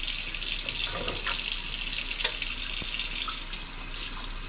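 Cold water runs steadily from a tap into a pot for homemade turkey soup, a continuous close hiss and splash without pause.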